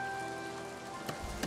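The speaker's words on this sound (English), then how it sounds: "Okay, well, it's raining." Rain falling in the medieval city-building game Foundation, a steady soft patter over a faint sustained tonal hum, with a couple of slightly louder drops near the end.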